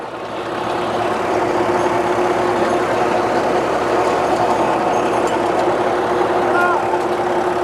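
A tractor engine drives a rotavator in a field, a steady loud diesel drone with constant low harmonics throughout, heavy and close, with faint voices beneath.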